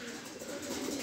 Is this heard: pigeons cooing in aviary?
yes